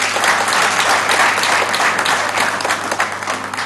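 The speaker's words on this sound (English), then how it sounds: "A big round of applause for all of you" Sustained audience applause fills a conference hall, a dense, even wash of many hands clapping at once that holds steady from start to finish with no break.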